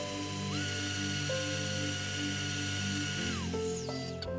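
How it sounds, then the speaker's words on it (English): An electric mixer beats sugar and butter for chewy chocolate chip cookie dough, giving a steady, close, whining motor drone whose pitch drops and shifts in the last second as it slows. "The crisscross motion of the mixing blades beat the sugar and the butter together, creating a nice homogeneous mixture."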